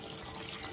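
Water is poured into a pot of drumstick sambar, a brief, close, continuous splashing pour.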